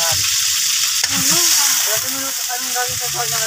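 A hotdog-like food fries in a pan with a loud, continuous sizzle and crackle, and a stirring scrape occurs around the one-second mark, while voices murmur faintly underneath.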